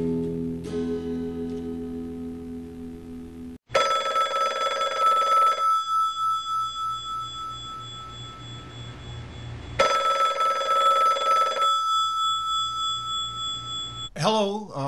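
A telephone rings twice in long electronic bursts with a bell-like tone, loud and close, after a short musical passage, then a brief click as the line picks up.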